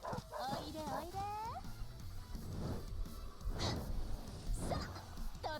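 Dogs in the video game Like a Dragon: Infinite Wealth, yelping and whimpering among game sound effects and music, with voices talking over them.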